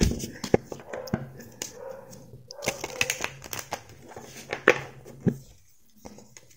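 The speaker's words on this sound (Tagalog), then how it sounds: "Pasensya na sa tahol ng aso kung naririnig nyo." A dog barks and yips indoors, with repeated sharp barks scattered across the stretch, moderately close, amid background noise and no clear talk.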